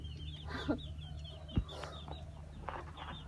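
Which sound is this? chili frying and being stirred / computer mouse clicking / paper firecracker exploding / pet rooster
pet rooster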